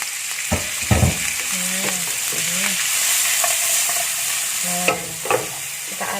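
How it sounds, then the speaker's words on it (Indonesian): Broccoli stir-frying with shrimp heads in a pan makes a loud, continuous sizzle, broken by several sharp spatula scrapes and clanks as the food is stirred. "Kita aduk-aduk rata sebentar."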